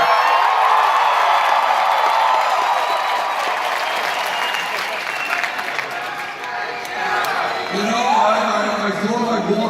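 A huge rally crowd at Taco Bell Arena in Boise, Idaho, roars with sustained applause and cheering that stays loud and dense throughout, with a speaker's voice breaking through over the din near the end.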